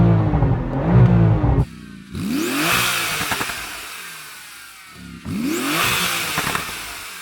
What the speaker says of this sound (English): Let's have a listen to the Porsche.